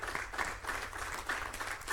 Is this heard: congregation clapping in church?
yes